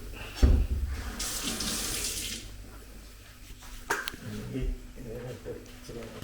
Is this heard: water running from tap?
yes